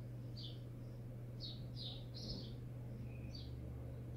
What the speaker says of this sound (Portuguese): Olha os passarinhos.